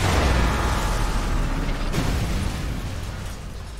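A loud, sustained explosion in the World War II shooter Sniper Elite 4 on San Celini Island, a deep rumbling boom that slowly fades over a few seconds, with no voices.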